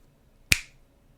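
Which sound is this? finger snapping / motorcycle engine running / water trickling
finger snapping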